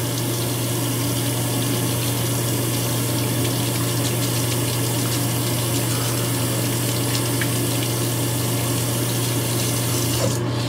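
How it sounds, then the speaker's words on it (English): Hot water from a tap pours steadily over the blades of a Gillette Fusion 5 razor at a sink, a constant loud rushing hiss with a low hum, running alone throughout. "Get some hot water on those blades real quick."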